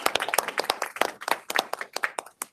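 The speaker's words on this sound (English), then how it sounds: "I just think we need a round of applause." Scattered applause from a small group at a transit board meeting, a sparse, uneven patter of individual claps close to the microphone with distinct separate hand strikes rather than a dense wash.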